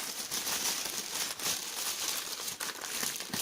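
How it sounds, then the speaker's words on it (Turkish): Plastic packaging crinkles and rustles continuously at close range while a 5 mW green laser ordered from China is unpacked, with brief sharper crackles and no talk. "paket açılımını birlikte yapalım"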